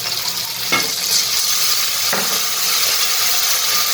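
Masala with tomatoes, onions, red chilli powder and Schezwan chutney sizzles steadily in a hot street-food pan, broken by two distinct spoon scrapes as the mixture is stirred, close and loud with no talking.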